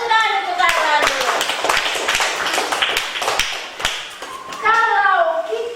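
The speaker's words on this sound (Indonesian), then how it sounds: "tepuk tangan untuk kalian dulu" Fourth-grade pupils in a classroom clap their hands in a quick, uneven run of claps, with a voice and an adult speaking before and after.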